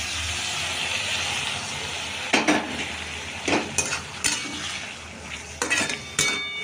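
A flat bean curry cooks in a pan, tempered with panch phoron, tomato, turmeric and chilli powder: a steady low sizzle runs throughout, with intermittent clinks and scrapes of a spatula stirring against the pan.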